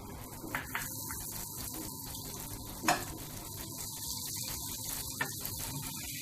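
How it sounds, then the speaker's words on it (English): Butter melts in a heated pan as filling for a veg Mughlai paratha, giving a steady, soft sizzle over a low mains hum, with a couple of brief clinks. "For the filling, heat the pan, add butter,"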